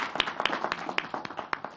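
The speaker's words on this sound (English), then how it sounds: "Please give him a round of applause." At a World Economic Forum Africa energy plenary, a small audience gives a short burst of scattered clapping for a speaker, with individual claps distinct and uneven.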